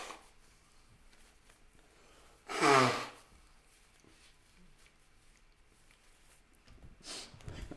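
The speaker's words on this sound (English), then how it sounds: "I have to blow my nose." A person blows their nose once in a single short, forceful burst near the mic, then a fainter nasal snort or sniff follows a few seconds later in an otherwise quiet room.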